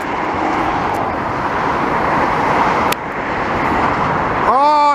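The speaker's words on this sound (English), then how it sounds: "Oh, Star Alliance A340, baby, and a dying breed, a 4-engine plane." A Star Alliance Airbus A340, a four-engine airliner, roars loudly and steadily at an airport in Montreal, Quebec, a broad sustained jet rumble with a rising whine near the end.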